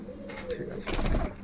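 Pigeons coo softly in a loft of imported birds at a seller's place in Sonarpur, Kolkata, a brief low cooing under faint background voices.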